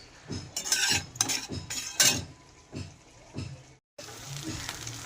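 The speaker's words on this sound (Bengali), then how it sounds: "আদা ঘষা ফোড়ন দিলাম" Grated ginger and radhuni seeds dropped into hot ghee for a shukto tempering, a close, bright crackling sizzle with a few utensil clinks, cutting out briefly before the steady frying hiss resumes.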